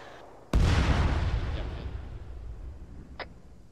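A single heavy gunshot or blast in the military game Arma 3 cracks out suddenly, then rolls into a long booming echo that fades over a few seconds, with a brief faint chirp near the end and no talk.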